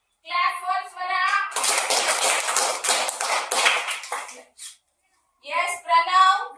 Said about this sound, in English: Clap for Swara.